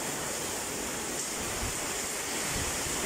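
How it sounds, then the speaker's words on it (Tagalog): Strong typhoon wind and driving rain in Zamboanga City, a steady, dense roar that stays loud and unbroken throughout, with no voices. "ayan na naman ang bagyo, ang lakas ng hangin, ulan dito sa Buanga City"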